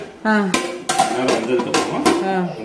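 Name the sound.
lid being put on a cooking pot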